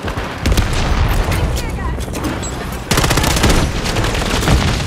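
A sentry gun fires in Call of Duty, rapid automatic bursts that rattle loudly and almost without pause, joined by a second harsher volley partway through, while a player talks over the gunfire.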